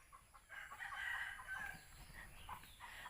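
Backyard chickens scuffle in a kitchen garden, a rooster chasing a hen, with agitated clucks and squawks at moderate distance over outdoor ambience.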